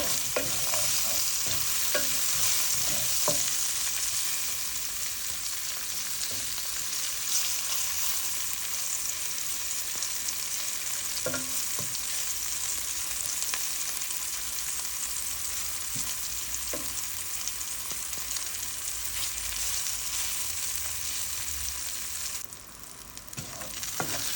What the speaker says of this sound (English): you can either fry the shrimp first or after